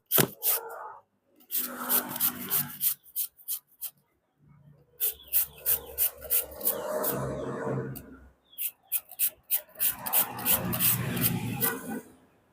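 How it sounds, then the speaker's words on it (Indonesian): A young mango is grated by hand on a grater, giving repeated rasping strokes in bursts, close and fairly loud, with short pauses between runs. "ini kita langsung parut"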